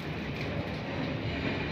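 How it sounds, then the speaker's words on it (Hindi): Garib Rath AC express train rolling along a railway track through narrow lanes, a steady dense rumble of wheels and carriages heard close and continuous with no pauses. "काफ़ी तंग गलियों के बीच में से देखिए ये ट्रेन निकलती हुई"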